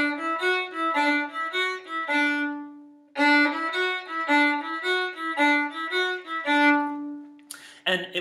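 A fiddle plays a swung, lilting tune with single bow strokes, bright and close, with rhythmic note changes, one long sustained note midway, and a brief scrape at the end.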